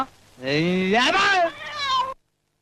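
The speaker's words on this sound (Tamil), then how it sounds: "இது பூனை. இது வேற வந்து காட்டுக்குள்ள பயமுறுத்துது." A cat in a video game gives one long, loud, close meow that rises and bends in pitch, then cuts off into silence.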